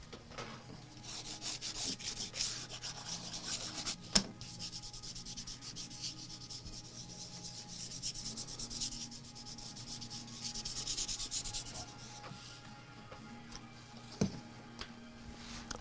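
Repeated scratchy rubbing of drawing medium being blended across paper on an illustration, close and fairly quiet, in uneven strokes with a couple of sharper taps.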